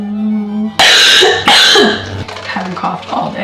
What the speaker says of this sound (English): Haven't coughed all day. Immediately sits down to film. Can't stop coughing.